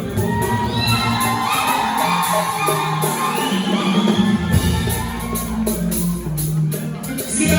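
A live concert crowd at the Palm Club, with women in the audience shouting, whooping and cheering together, loud and sustained with music and voices mixed in throughout.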